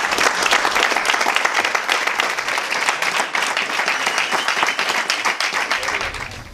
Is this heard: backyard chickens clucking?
no